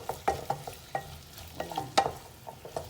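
A utensil scrapes and stirs aglio olio pasta with chicken in a frying pan, with a low sizzle underneath and rhythmic close clacks against the pan.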